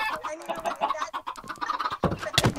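Chickens in Minecraft cluck in a quick, busy series of close bursts, several birds overlapping with rhythmic clucks and squawks and a sharper cackle near the end.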